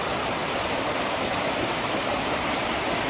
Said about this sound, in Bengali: পাশে দিয়ে যাচ্ছে জলটা,